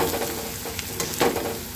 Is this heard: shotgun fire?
no